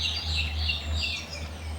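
Birds calling in Sydney, Australia: a wash of high chirps and twittering, moderately close and continuous, over a steady low engine-like rumble, with no voices.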